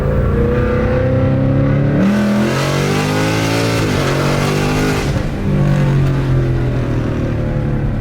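A car accelerates hard at wide open throttle, its loud engine note climbing through the revs, dropping briefly at a gear change and pulling again, close and with no talk.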